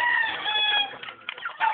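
A flock of farm chickens clucks and calls together, a busy overlapping chorus of hen sounds at moderate distance with no talking.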